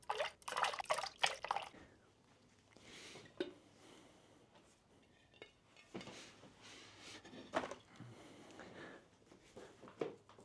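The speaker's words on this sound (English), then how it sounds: "Now let's pour in the other wax." Quiet melted wax pours and drips in intermittent bursts, with occasional light clinks of containers between pauses.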